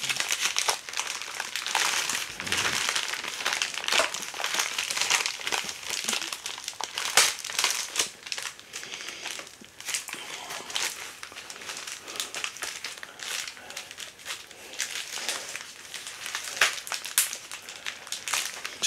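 Plastic packaging wrapped in heavy tape crinkles and crumples steadily as it is pulled open and torn, a dense close-up rustle with frequent sharp crackles throughout.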